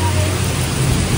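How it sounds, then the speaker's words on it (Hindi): Heavy rain pouring down, a dense, loud and steady hiss of broadband noise filling the whole stretch close by, with a faint voice underneath. "तेज बारिश है"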